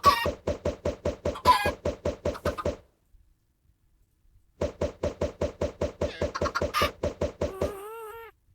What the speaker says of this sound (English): The chickens keep on laying